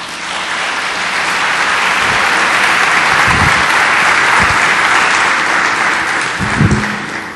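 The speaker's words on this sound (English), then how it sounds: "Give him a round of applause." A summit audience gives a keynote panelist a round of applause, a loud, full burst of clapping that swells, holds steadily, then tapers toward the close, with a couple of low thumps underneath.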